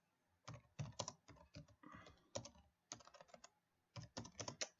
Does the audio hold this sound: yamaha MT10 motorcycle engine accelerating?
no